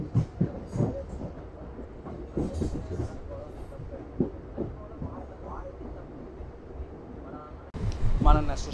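A MEMU express train moves slowly from the loop line onto the main line, giving a low rumbling roll with irregular wheel clatter over the points, while a voice talks over it and louder clatter rises at the end.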